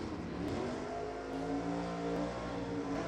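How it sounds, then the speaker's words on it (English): Drag racing cars accelerating hard off the line at an NHRA divisional race, including a Gen 3 Camaro automatic GT car, a loud continuous roaring engine drone with rising harmonics filling the whole stretch. "Alan Freese, Gen 3 Camaro, Q automatic GT car dialed 1084."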